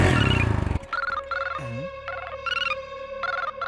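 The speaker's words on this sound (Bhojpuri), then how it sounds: "रुका रुका फोन आवता।" A mobile phone ringtone plays indoors as a repeating electronic melody. It comes in regular short bursts over a steady tone, clear and close, with no talking over it.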